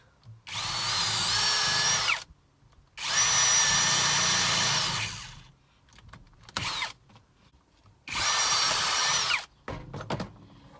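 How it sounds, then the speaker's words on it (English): Three long bursts of a power drill whining at high speed while drilling out rivets, separated by short pauses, with a few brief clicks and clatters in between. "I can drill the centre one out over the top of that hole"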